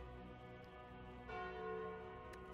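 A deep, resonant bell tolls with a long ringing tail over a dense low drone when the Calling Bell relic is taken in the video game Slay the Spire; faint and alone.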